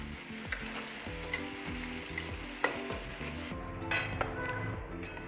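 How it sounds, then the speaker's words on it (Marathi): Chopped onions frying on a tawa for Mumbai street-style tawa pulao, a loud continuous sizzle close up with steady stirring scrapes and spatula knocks throughout, no talking. "कापलेले कांदे टाकते कांदे चांगले लालसर होऊ द्यायचे"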